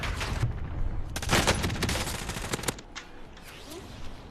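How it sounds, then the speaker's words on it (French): Gunfire in The Last of Us video game: rapid overlapping shots and scattered cracks in a dense volley, fairly loud, thinning out toward the end. "on me tire déjà dessus, c'est génial"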